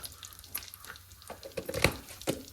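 Hot oil in a kadai crackles and sizzles in short bursts as cumin seeds are dropped in, with a few sharper pops near the end.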